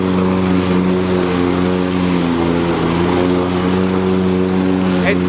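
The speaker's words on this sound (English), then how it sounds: "It's taking too much effort for this mower to go." A new Toro Recycler lawn mower engine runs loudly and steadily at close range with a constant droning hum, while the mower is slow to move forward under its own power.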